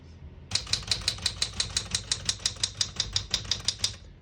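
A 1973 Smith-Corona Galaxie 12 portable typewriter types a quick, even run of about twenty crisp key strikes, close and clear, each a sharp metallic clack with nothing else over it.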